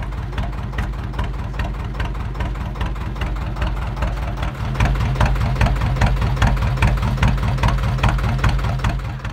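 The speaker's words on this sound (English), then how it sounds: "a traditional narrowboat with its Lister engine popping away" Lister engine of a traditional canal narrowboat chugging at a steady rhythmic pop, close and loud, growing somewhat louder partway through, with no voices.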